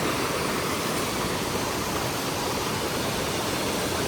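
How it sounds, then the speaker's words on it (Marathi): Dhangar waterfall on a river at Badlapur roars as a steady, dense rush of falling water, constant and close, with no voices over it. "असा आहे आमच्या नदीचा झरणा"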